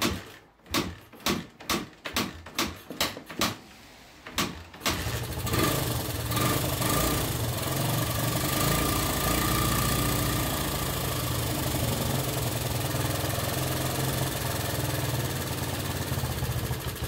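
A carbureted engine cranks in a series of rhythmic pulses, then catches and settles into a steady, loud, close idle that holds for the rest of the stretch.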